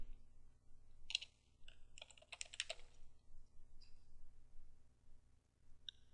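A short command is typed on a computer keyboard at a Linux terminal: a few sparse clusters of crisp key clicks, close and fairly quiet, separated by silent gaps.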